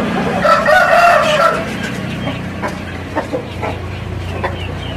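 A Bangkok rooster crows loudly nearby, one long drawn-out call, followed by softer scattered clucks and rustling in the background.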